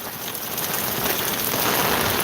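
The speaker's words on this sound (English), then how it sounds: "That's rain hitting the umbrella." Heavy typhoon rain pelts an umbrella in Ulsan, South Korea, a dense, close, unbroken hiss of drumming drops that holds loud for the whole stretch.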